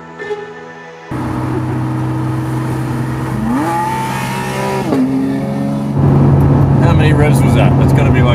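A Porsche 911 engine revs in bursts, with rising pitch sweeps climbing and falling over a steady idle drone, then a louder, rougher engine roar near the end, heard close.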